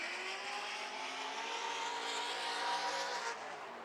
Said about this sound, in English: You gotta love the sound of that Corvette, man.